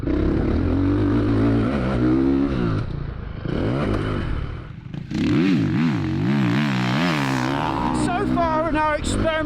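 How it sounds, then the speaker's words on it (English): A Ducati 450 motocross dirt bike rides a rough, rugged winter track in the UK, its engine revving up and down in loud, close surges with clattering and scraping over the terrain. "I've hit the track first on board the Ducati"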